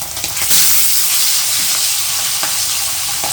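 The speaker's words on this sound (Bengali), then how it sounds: "শুধু দু টুকরো লেজই ভাজা হবে" Two pieces of hilsa fish tail fry lightly in a pan, giving a loud, continuous sizzle and crackle with bursts of spitting oil and no talk.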